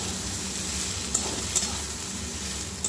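Tomato fries with ginger and garlic in a pan for an egg, potato and cauliflower chorchori. A steady, close sizzle runs throughout, with a few sharp clicks and pops of spatula strokes.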